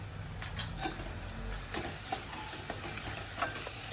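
Chili, ginger and garlic sautéing in oil for a large batch of pav bhaji, with a steady low sizzle and soft spoon-stirring scrapes recurring through the pan.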